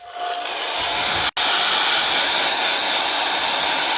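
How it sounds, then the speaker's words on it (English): A hair dryer blows with a steady, loud rushing hiss, briefly cutting out for an instant before continuing; close by with no voices. "Now I'm just going to take the hairdryer and make sure that's good and dry"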